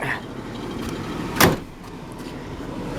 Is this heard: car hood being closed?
yes